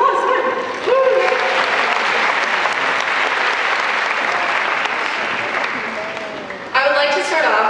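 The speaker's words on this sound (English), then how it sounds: "Give yourselves a round of applause" Graduation audience applause, a dense, loud, steady wash of clapping that runs throughout with a few cheers and whoops mixed in, swelling again near the end.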